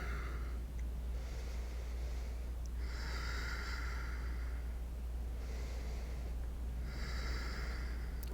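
Slow, steady breaths in and out during a shoulder stretch in a follow-along flexibility routine, several soft airy breaths at a calm, even pace over a constant low background hum.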